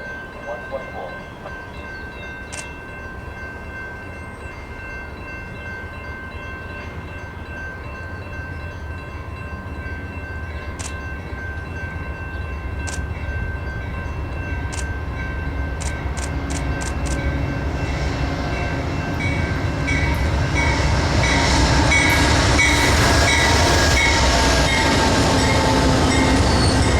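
An Amtrak Texas Eagle passenger train rumbles closer, growing steadily louder over nearly half a minute, with faint wheel clatter, occasional sharp squeals and a steady tone in the background.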